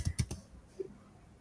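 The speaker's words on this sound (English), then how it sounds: "I think I'm typing something." A few quick keystrokes tap on a computer keyboard, three close clicks followed by a faint pause, brief and quiet with no talking.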